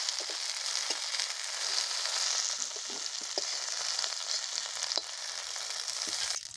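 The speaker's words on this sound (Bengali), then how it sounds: "ভেন্ডিগুলি ভেজে উঠিয়ে নিলাম" Okra frying in oil, a soft steady sizzle with faint spatters and occasional light clicks of a utensil, fairly quiet and constant throughout, no talk.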